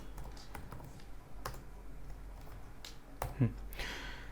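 Close, quiet keystrokes tap on a computer keyboard in an uneven typing rhythm over a low background hum.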